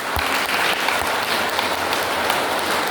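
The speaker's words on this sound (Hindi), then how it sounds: "चलिए जोरदार ताली इनके लिए।" Audience at a yoga class breaking into clapping, a dense burst of applause from a small group, close and lively for the whole stretch with no talk.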